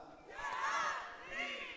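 A seminar crowd shouts back in unison in a large hall, a brief loud swell of many voices that rises, dips and rises again over about two seconds.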